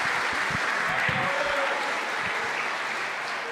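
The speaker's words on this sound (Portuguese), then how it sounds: "Eu queria que você aplaudisse o nome de Jesus por esta palavra." A church congregation applauds in a continuous, dense wash of clapping that holds steady for several seconds with no voice over it.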